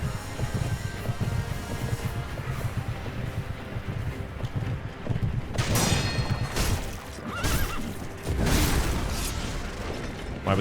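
A horse whinnies in the action game Sekiro, stunned mid-air during a boss fight. The neighing comes in loud bursts over clanking mechanisms and wind-like game noise, with no talk.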